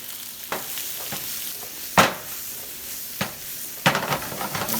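Vegetables get a rough sauté in a hot pan for a chicken and shrimp jalfrezi, a low steady sizzle broken by a few sharp stirring clanks and scrapes.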